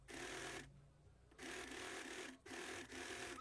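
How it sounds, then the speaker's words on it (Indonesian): A sewing machine stitches around the waistband of a pair of drawstring shorts, running in steady whirring bursts with a short pause between runs. "Lalu ini kita jahit keliling sesuai dengan tanda polanya."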